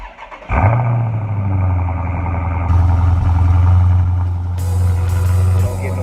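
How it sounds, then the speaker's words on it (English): A Dodge Scat Pack V8 fires up from cold: a sharp crank and catch, then a loud, steady, rumbling high idle close by that holds for several seconds, with a slight rise in intensity partway through. "But we got a cold start for you."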